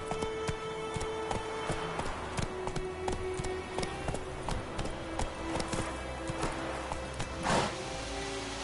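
The horse Roach gallops in The Witcher III, steady rhythmic hoofbeats clip-clopping close and even, with a brief louder burst of movement near the end.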